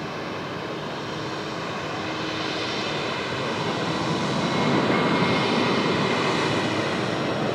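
Asiana airliner's jet engines idling at Sydney Airport, a broad steady roar heard from across the apron that slowly swells a little louder, with no voices.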